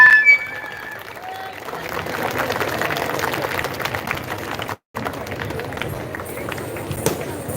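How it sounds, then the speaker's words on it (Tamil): Audience at a Bharatanatyam dance festival in Pollachi clapping steadily in a dense, sustained wash of crowd noise, with a brief cut near the end. "தயவு செய்து நல்லா சத்தமா கிளாப் பண்ணுங்க"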